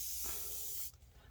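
A spray bottle, used for gelli plate printing with watercolors and alcohol, gives a steady, close hiss for just under a second, then stops abruptly.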